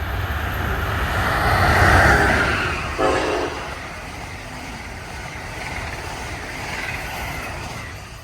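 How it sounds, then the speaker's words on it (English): An eastbound Amtrak Northeast Regional train passes through Mansfield on the Northeast Corridor, a broad rumbling rush that peaks early and fades into a lingering roar, with a brief sharp burst partway through. "we see an eastbound Northeast Regional heading towards Boston"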